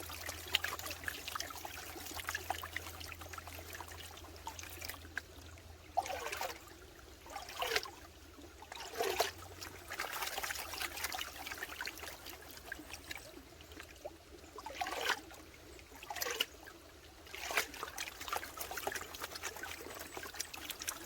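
Clay-laden gold pan being broken up and washed in water, with soft trickling and sloshing broken by several brief splashy swirls, fairly quiet and steady throughout.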